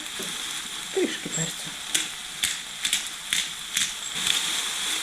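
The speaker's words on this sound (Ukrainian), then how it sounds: "Як цибулька злегка підсмажилася, додаю нарізані гриби" Sliced mushrooms fry with onion in a pan, giving a continuous sizzle. Several sharp spatula taps and scrapes punctuate it at irregular intervals, close up.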